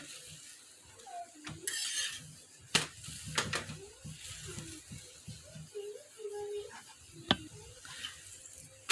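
A methi paratha is flipped and roasted with oil on a hot pan, giving soft sizzling with scraping and tapping as it is turned, plus a few sharp clicks and knocks, all close by.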